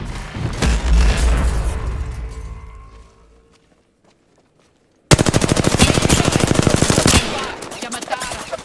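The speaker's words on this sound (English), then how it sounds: "The enemies are shooting at me." Rapid automatic gunfire from enemies in a video game, a loud burst of shots, a fade to silence, then another sustained fast volley of shots up close.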